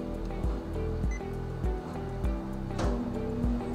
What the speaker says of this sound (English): That's the vacuum engaging, which is holding the film down on top of our vacuum bed.